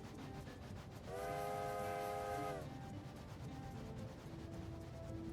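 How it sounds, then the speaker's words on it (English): A small train in a video game sounds a bright, sustained horn for over a second over a steady rolling rail rumble, with soft game background sounds continuing after the horn stops. "Look at that little train, it's so cute."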